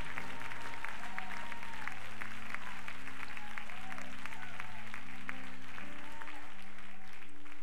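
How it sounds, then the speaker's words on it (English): A church congregation claps their hands in praise during a worship service, sustained rhythmic clapping over steady organ or keyboard chords, with occasional voices mixed in. "somebody clap your hands and give the Lord praise all across this house"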